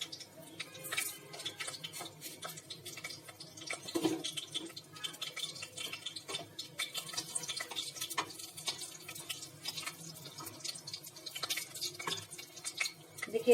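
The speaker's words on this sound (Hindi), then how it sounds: "देखिए तड़कना शुरू हो गया है।" Fenugreek seeds crackling in hot oil, a soft, steady stream of faint ticks and tiny pops with occasional louder clicks, no voices over it.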